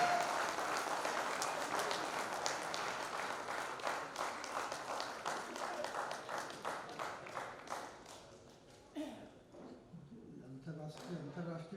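A crowd at a Hindi poetry gathering gives dense, sustained applause to welcome the poet Jani Bairagi. It thins into scattered claps and fades after about eight seconds as voices begin.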